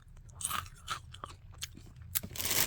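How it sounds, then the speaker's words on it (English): Several crisp crunches from close chewing of General Mills Frosted Lucky Charms cereal, irregular bursts of crackly noise with brief pauses between bites. "I don't know if you heard the crunch."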